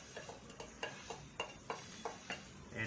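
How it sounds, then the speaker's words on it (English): Spices being stirred into an egg omelette mixture in a pan, a spoon scraping and tapping in a steady run of soft, close clicks at an even rhythm, with no voices. "mix all the spices properly"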